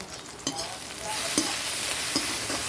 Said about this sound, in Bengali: সেটি দিচ্ছি ভালো করে একটু কষিয়ে নিই